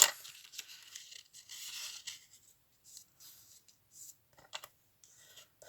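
A Pocket Punch Board scores fold lines in paper, producing faint, quick scratchy strokes and light clicks in short separated bursts, close up and quiet, with brief silences between them.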